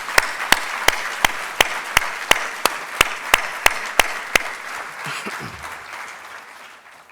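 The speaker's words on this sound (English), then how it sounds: "Let's give this group a big round of applause." Applause at an AGC Georgia construction industry event, with a steady rhythm of sharp, evenly spaced claps over a crowd, gradually fading away toward the end.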